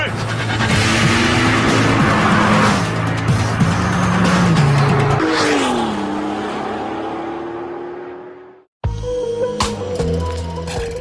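A VW Golf GTI W12 with a 650-horsepower engine accelerates hard, its loud engine climbing through the revs with gear changes, then cutting out abruptly before returning, while someone talks over the roar.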